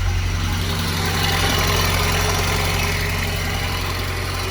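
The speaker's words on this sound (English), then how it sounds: "The noise you can hear across the top of the engine are the tappets." A car idles after sitting unused for a long time, its engine running with a steady, close drone while dry tappets tick across the top of the engine.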